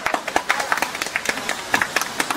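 An audience claps at a stage event where a committee member is called up. The clapping is a steady, rhythmic patter of hands, close and fairly loud, with voices running underneath.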